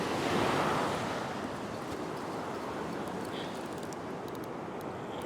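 Ocean waves surging and breaking against a rocky shoreline where people fish for yellowtail, a steady, loud wash of surf mixed with wind buffeting the microphone, with no distinct pauses between swells.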